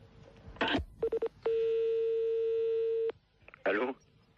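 A telephone number is dialed on a phone line: short bursts of touch-tone beeps, then a long steady tone, with brief voices before and after the tones.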